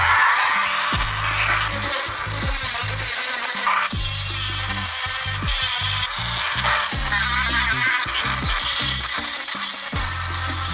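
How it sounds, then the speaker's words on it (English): A handheld power tool grinds the edge of a seashell, producing a continuous, fairly loud whirring rasp with repeated short interruptions as the bit is lifted and pressed back against the shell. "So I'm just gonna grind them off"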